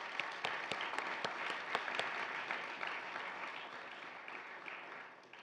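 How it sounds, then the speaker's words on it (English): Audience applause at a Veterans Day 2017 ceremony, a steady room-filling wash of many hands clapping that runs the whole stretch and slowly tapers off, with a few sharper individual claps standing out near the front. "please help me in giving him a round of applause for that"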